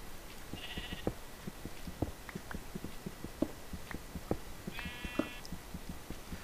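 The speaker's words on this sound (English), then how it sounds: "That's a sheep." Sheep bleat in the video game Minecraft, two short nasal bleats a few seconds apart over quiet ambience scattered with soft ticking steps and clicks.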